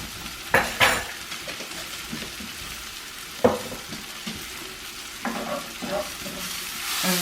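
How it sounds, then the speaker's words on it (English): Cumin and coriander seeds heating in a hot pan for saag paneer produce a continuous sizzle. Sharp metallic clinks and stirring scrapes break in now and then, close and fairly loud, with no talking. "They might start kind of popping at you. That's something they do as they heat up."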